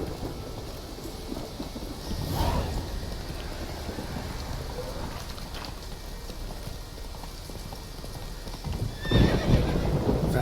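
Hooves clip-clop steadily as a horse gallops in The Witcher 3, with rain and rumbling thunder behind, a whinny near the start and a louder burst of movement near the end.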